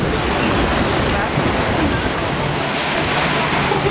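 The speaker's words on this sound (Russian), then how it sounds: "Чтобы волны были, делай волны." Water is splashed and stirred by hand to make waves, giving a loud, continuous broadband rush and churn close by with no clear pauses.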